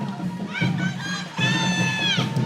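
A crowd at a college volleyball match between Northwestern Oklahoma State and Oklahoma Baptist cheers and shouts in two loud surges, with high-pitched young voices yelling together, filling the gym throughout.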